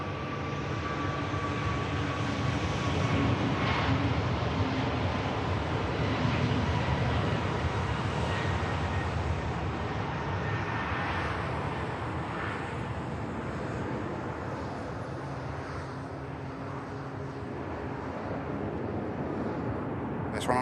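A jet airliner taking off from Manchester Airport, a loud sustained engine roar that builds and then slowly fades as the aircraft climbs away, with a commentator's voice heard over it.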